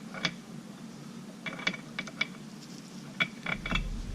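Oil pump being fastened with two short bolts onto a Stihl MS290 chainsaw during reassembly: sparse close metallic clicks and ratchet-like ticks in small clusters over a quiet background.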